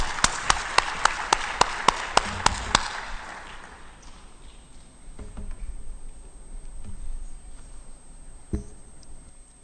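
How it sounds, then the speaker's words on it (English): Audience applause at a health forum, a burst of sharp, rhythmic claps for about three seconds that quickly fades into a quiet room with scattered murmurs and faint shuffling. "Please, give him a round of applause."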